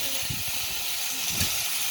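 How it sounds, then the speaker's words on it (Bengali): Potato and eggplant frying in a pan while cooking outdoors, giving a steady broad hiss throughout with a few soft low thumps underneath. "আর আলু বেগুনটা ভাজছি"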